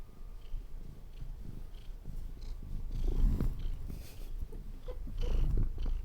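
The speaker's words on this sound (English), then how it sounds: "I never know if you can hear her purring." Close, steady cat purring, a low rhythmic rumble that swells louder at times, with faint rubbing noises over it.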